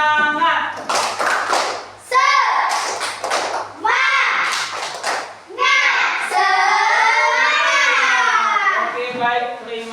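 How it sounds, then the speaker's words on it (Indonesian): Classroom group doing a rhythmic clapping chant (tepuk semangat) led by a teacher, with claps in bursts alongside children's chanting voices, fairly loud and close. "Ya, tepuk semangat."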